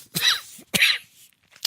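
A person coughs twice in quick succession, close and loud, followed by a brief faint throat sound.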